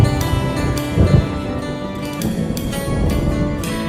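Thunder rolls under steady rain as an effect in a country song: a dense hiss of rainfall with low rumbling swells, continuous and fairly loud, with no voice over it.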